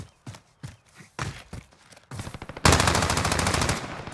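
Rapid machine gun fire in Call of Duty: Modern Warfare starts after a few sharp single shots and steps, ending in a dense, loud, close burst.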